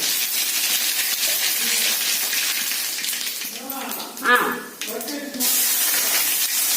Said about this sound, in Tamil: எண்ணெய் காஞ்சிச்சு, கடுகு போடணும். கடுகு நல்லா பொரிஞ்சு போடணும்.